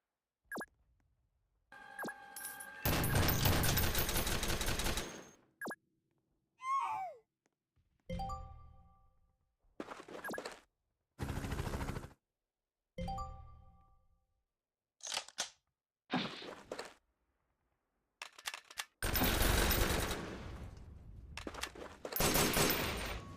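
Rifle fire in the Roblox combat game Noobs In Combat crackles in several loud, sustained bursts separated by silences, with shorter sharp shots and a few tonal clicks in between.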